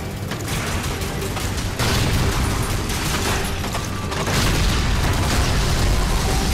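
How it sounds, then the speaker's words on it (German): Robot mechs blowing up in the video game Lost Planet 3, heavy booming blasts over a dense roar of noise, with a louder burst partway through and another surge near the end. "Der eine explodiert, oder? Der explodiert doch. Beide explodieren."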